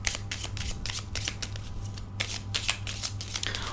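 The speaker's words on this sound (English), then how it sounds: "just let me know if the shuffling's too loud" Tarot cards being shuffled by hand in quick riffling bursts, crisp papery flutters repeating steadily at close range with no voices.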